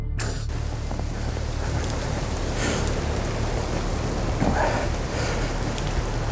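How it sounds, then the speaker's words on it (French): Steady, loud rain pouring down close by, a continuous dense patter on surfaces with no voices, holding evenly for several seconds. "c'est pas humain, c'est de la pluie"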